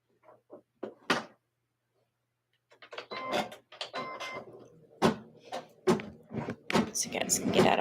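An embroidery machine runs a basting stitch, giving irregular mechanical whirs and clicks after a few brief knocks and a short pause, moderately loud and close.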